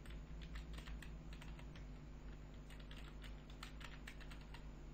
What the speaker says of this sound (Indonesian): ketik password yang Anda mau